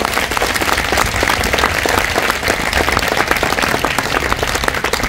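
An audience at a coaching-centre event claps loudly and continuously, a dense, even wash of applause from start to finish with no talk over it.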